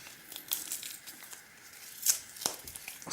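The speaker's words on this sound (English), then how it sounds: "so I'll just remove the double-sided sticky tape from it" Double-sided sticky tape peeled off a laptop trackpad, faint crinkling and a few short tearing rips spaced irregularly, close and quiet with no talk.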